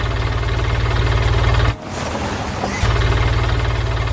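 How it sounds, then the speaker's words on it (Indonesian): A yellow forklift's engine idles in a steady low throb, briefly dipping for about a second before resuming its even, close, loud running. "Lihat, sebuah forklift kuning mulai beraksi keluar dari lumbung."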